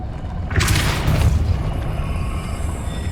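A Depulso spell goes off in Hogwarts Legacy with a heavy booming whoosh and a bright burst, rumbling under a steady low game background.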